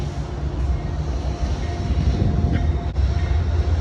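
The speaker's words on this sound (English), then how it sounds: "There goes the train over the bridge, the Amtrak, taking some passengers." An Amtrak passenger train rumbles steadily across a bridge in Albany, New York, at moderate distance, a continuous low roar with a faint squeal partway through.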